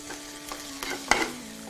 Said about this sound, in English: So I'm just going to stir it over so it cooks nicely.